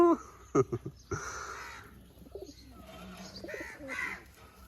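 Pigeons kept at a rural home give a few soft, throaty coos near by, mixed with brief calls of other birds, fairly quiet overall.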